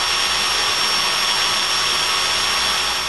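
A power drill bores screw holes into wooden cabinet legs for a router cabinet, giving a steady, loud whirring drone that holds without a break throughout.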